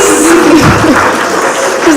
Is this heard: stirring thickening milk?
no